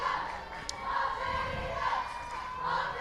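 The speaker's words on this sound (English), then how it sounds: "we see the crowd is cheering really hard to their respective schools" A crowd at a school rowing regatta cheers and shouts hard for competing rowers, a dense, sustained wash of voices heard from a distance and rising and falling.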